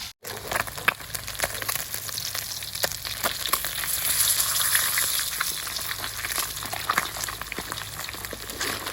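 Salted snakehead fish deep-fries until crispy, a loud dense sizzle and crackle right after a sharp opening knock, building slightly in the middle and continuing steadily with no speech.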